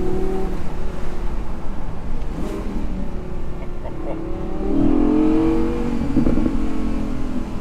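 An Audi R8 V10 Spyder engine revs and pulls hard along a tree-lined road, its note climbing through the gears in loud, rising sweeps that echo around.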